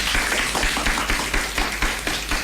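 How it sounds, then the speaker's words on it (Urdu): A studio audience on a children's radio show claps for a young guest, with steady, fairly close hand claps in an uneven rhythm that carries on throughout. "بہت ساری تالیاں ہوں گی مہرالنساء کے لیے"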